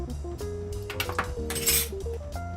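Baking powder is mixed into flour in a bowl with a utensil that clinks and scrapes repeatedly against the sides, sounding close and fairly quiet, with faint tonal ringing from the dish.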